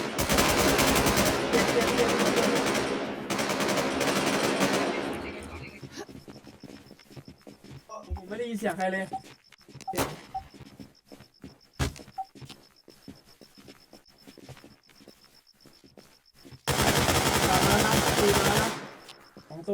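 An enemy's gun firing in the video game LastZ: loud, dense automatic bursts at the start and again near the end, with sparse scattered shots and quieter game sounds between them.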